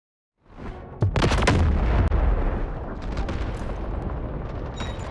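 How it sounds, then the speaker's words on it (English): An artillery barrage in the video game Delta Force bursts in after a short silence, heavy booming impacts piling into a loud, sustained rumbling roar with scattered cracks. "Artillery barrage incoming."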